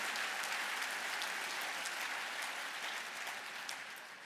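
Sustained audience applause during a community foundation's State of Community speech, a dense steady wash of many hands clapping that holds evenly and tapers slightly near the end, with no voices over it.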